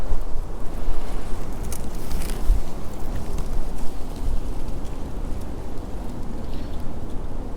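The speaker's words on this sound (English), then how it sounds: "Sorry for the wind, it is extremely windy." Strong wind buffets the microphone in Rose Hill Cemetery with a steady, loud rumbling roar throughout, no one speaking.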